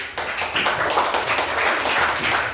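A classroom of students clapping hands together in a dense, steady burst of applause, close and loud, lasting a couple of seconds without talk.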